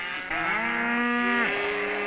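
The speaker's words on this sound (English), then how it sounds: "We'll drive our cattle down to a kraal" A single cow lows for nearly two seconds on a ranch on the Arizona Strip, a loud, drawn-out moo that rises, holds steady, then drops off, with no voices around it.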